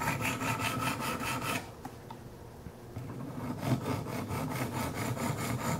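A Kershaw Skyline knife blade is drawn across 200-grit Wicked Edge sharpening stones in quick, even rasping strokes, interrupted by a short quiet pause before the rhythmic scraping resumes.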